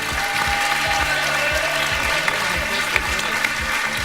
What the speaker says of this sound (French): Laura, on l'applaudit.